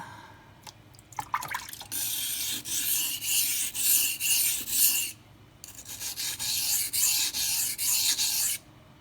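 Knife blade convexed on a Pride abrasive water stone, with repeated rhythmic gritty scraping strokes in two bursts separated by a short pause, close and loud.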